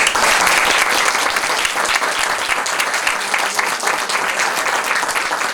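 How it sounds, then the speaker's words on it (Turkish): A theatre audience claps vigorously after a youth workshop's year-end stage play, an even, sustained wash of applause filling the whole stretch without a pause. "Tekrar kocaman bir alkış."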